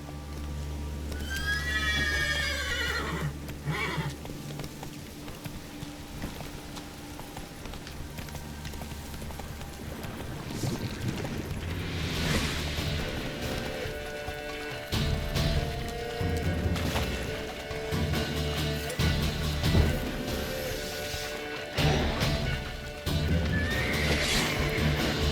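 Roach, a horse in The Witcher 3 video game, whinnies loudly near the start, then hooves clip-clop steadily along through the rest, with scattered knocks and thuds over a continuous game backdrop.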